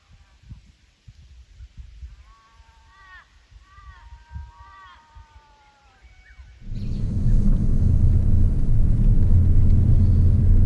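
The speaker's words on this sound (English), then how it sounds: "Just driving out of the Big Swamp in White Mountains National Park." A 4WD vehicle drives out of a swamp track at Big Swamp in White Mountains National Park, Queensland; birdsong over quiet surroundings gives way abruptly to a loud, steady engine and road rumble close by.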